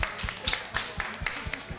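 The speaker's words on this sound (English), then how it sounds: "Can we give one more round of applause?" A small audience at a panel event gives a thin round of applause: about eight separate, scattered hand claps spread evenly across a couple of seconds, with no steady wash of clapping behind them.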